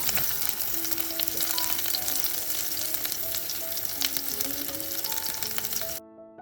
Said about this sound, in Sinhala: බෙල් පෙපර් ටිකයි ලුණු තක්කාලි ටික මම තෙලට දාපු ගමන්ම ඉක්මනින් අහපව් ගන්නවා